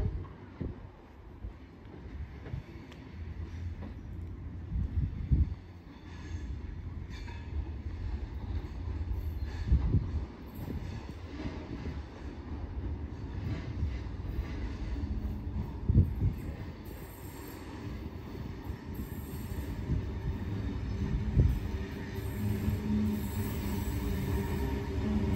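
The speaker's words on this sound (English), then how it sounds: "The next train to arrive on platform 2 goes to Sydenham." A Sydney train pulls into the platform at Erskineville Station with a long, rolling rumble, swelling and easing as it arrives. Wheel squeals and gusts of wind noise on the microphone come through along the way.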